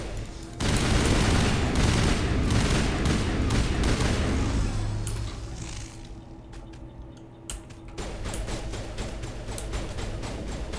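Weapons fire in the sci-fi shooter Mass Effect Legendary Edition during a combat mission, with rapid bursts of shots and booms that ease off midway, then resume as sharper crackling volleys.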